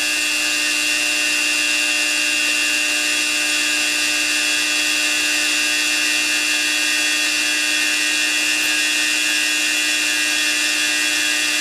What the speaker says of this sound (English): it needs a little bit of warming up, this motor. So let's let that warm up a bit